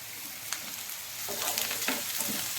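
Goat tripe pieces drop into browned fried onions and sizzle, a steady close frying hiss broken by a few scraping stirs, building slightly louder toward the end.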